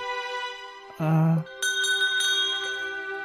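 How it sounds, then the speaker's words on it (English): A little bell on a necklace in a video game gives a short bright jingle that rings out alone over a steady musical background, followed by lingering tones. "It has a little bell."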